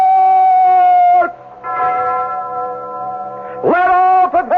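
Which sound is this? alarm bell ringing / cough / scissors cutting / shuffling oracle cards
alarm bell ringing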